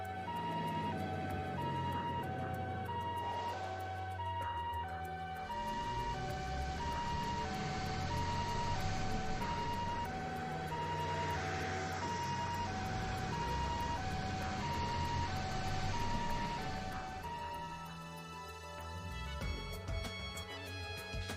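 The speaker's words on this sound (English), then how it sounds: "Were those ambulances just now?" Sirens from several ambulances in the video game Trails to Azure wail steadily in a repeating two-tone pattern under game music, staying loud for most of the stretch before easing off near the end.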